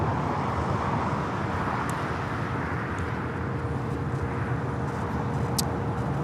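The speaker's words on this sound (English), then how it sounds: "This is EVA Air Flight 12 coming in from Taipei on the" An EVA Air Boeing 777-300ER arriving at LAX from Taipei gives a broad, steady jet roar blended with wind and distant traffic noise, holding constant for several seconds with no talk.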